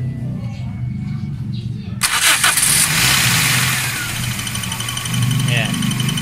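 A Toyota Corolla engine cranks and catches after about two seconds, then settles into a loud, rough running idle, with people talking nearby throughout.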